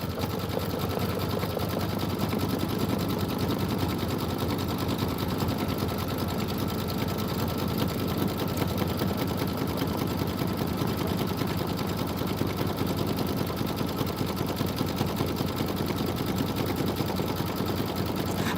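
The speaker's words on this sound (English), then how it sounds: "we're going to see how it's sewing it down right on the inner part" An embroidery sewing machine stitches down a Kimberbell snowman pillow block, running in a steady, rapid mechanical whir with fast needle rattle for the whole stretch, close and uninterrupted, with no talking.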